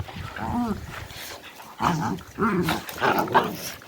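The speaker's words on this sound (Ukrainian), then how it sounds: "І собаки чубуряють" Dogs growl and snarl in short bursts as they scuffle nearby, with some yips mixed in; the noise rises and falls over a few seconds.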